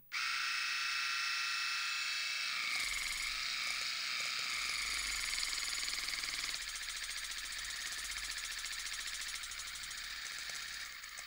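A Huaco electric cleaning kit switches on with a sudden, steady mechanical buzz and whir that stays loud and close, its texture shifting slightly partway through.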